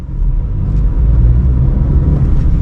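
Inside a moving car in second gear, a loud, steady, low engine and road rumble continues without a break, close and even, with no talking.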